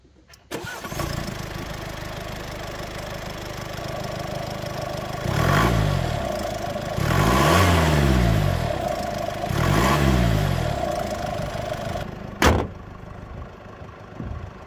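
A Mercedes V 300d 4Matic diesel van with a 2.0-litre engine pulls away hard from standstill, its engine rising in repeated surging revs through the gears, heard from inside the cabin, before a brief knock and quieter settling.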